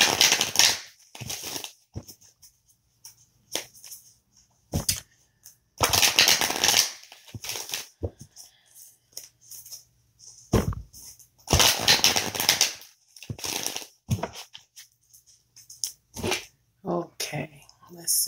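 A deck of cards is shuffled and single cards are pulled, giving repeated crisp riffling bursts and short snaps with quiet gaps between, while someone talks throughout.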